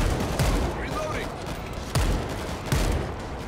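World War Z shotgun fire: three heavy blasts roughly a second apart over a dense roar of game noise.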